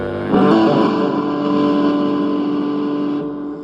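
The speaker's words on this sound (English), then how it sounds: "Okay, we move on to the distortion." A distorted electric guitar chord from a Yamaha ERG 121c rings out loud and sustained, buzzing with heavy gain before slowly fading near the end.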